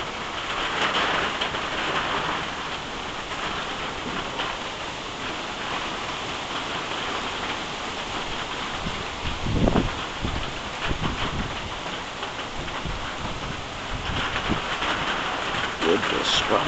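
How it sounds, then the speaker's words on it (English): Rain dripping off a house roof into a backyard during the remnants of Tropical Storm Gordon in Ontario, a steady hiss of falling water with scattered drip impacts and a brief louder gust or splash near the middle. "Water drops coming down off the roof."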